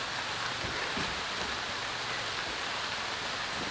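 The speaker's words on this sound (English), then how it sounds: "It's raining." Steady rain falling at an outdoor pole barn building site, an even, dense hiss of drops on surfaces with no breaks, alone without voices.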